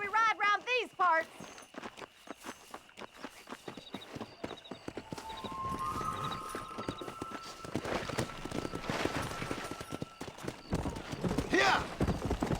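Horse hooves pound in a rapid clip-clop as a horse is ridden in the Western game Red Dead Redemption, a steady run of impacts with engine-like game ambience and a brief whinny, with voices talking at the start.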